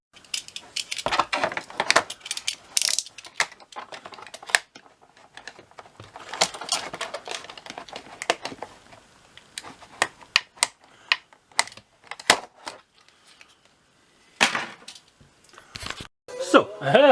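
Sharp clicks, snips and scraping as molded plastic spacers are cut out of an old tool case, irregular close bursts separated by quiet gaps, with some speech at times.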